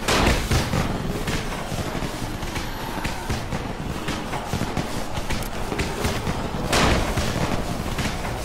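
Loud, crackling bursts of sharp pops and bangs from firecrackers in the video game Dying Light go off in quick irregular succession, with a bigger cluster of blasts near the end.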